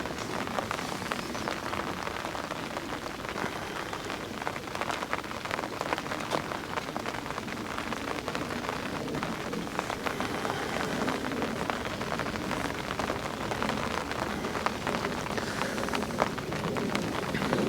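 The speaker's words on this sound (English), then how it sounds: "It's raining again." Steady rain falls on a fishing lake, a dense, even hiss of drops that holds unbroken for the whole stretch with no pauses.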